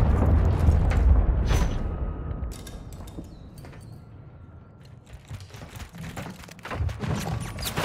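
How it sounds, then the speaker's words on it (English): A cruise missile strike rumbles through a Call of Duty: Modern Warfare III match, with a heavy low boom and rolling thuds amid creaking debris and scattered battlefield noise. "Friendly cruise missile deployed."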